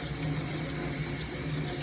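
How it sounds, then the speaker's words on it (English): Raw rice being rinsed under a running kitchen tap while cooking. A constant, close gush of water flows throughout the short stretch. "So you want to rinse the rice until the liquid that's coming out of the rice"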